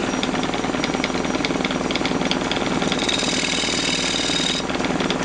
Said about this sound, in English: So we're going to go in with a square scraper so that we have something for the lid to seat on.